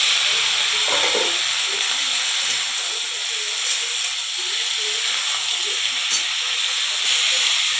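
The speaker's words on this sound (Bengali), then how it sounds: "মাছটা ভাজা হয়ে গেছে, সবজিটা দিয়ে দেবো এর মধ্যে।" Dried fish fried with chopped onion in oil gives a steady, even hiss, with vegetables added to the pan; the sizzle runs alone and unbroken throughout.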